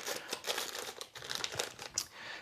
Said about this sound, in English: so I just put it in a plastic bag